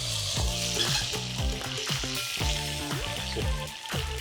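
Italian pan cooking with rosemary, a steady close sizzle of frying food in the pan, overlaid with repeated clinks and scrapes of stirring utensils; no talking.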